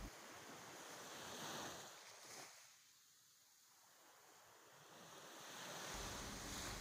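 Ocean surf and gusting wind on a coastline where fishermen work, a broad roaring wash that swells, dips to a quieter lull midway, then builds loud again, with wind buffeting the microphone.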